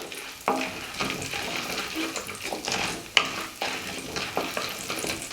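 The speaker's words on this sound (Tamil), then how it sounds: "இது ரெண்டையும் போட்டுட்டு நல்லா பொன்னிறமாக வாசம் வர்றது வரைக்கும் இதை நல்லா வறுத்துக்கலாம்" Urad dal dry-roasting in a pan until golden, giving a steady low sizzle with scraping stir strokes and one sharp clink of the spoon against the pan, close and moderately loud.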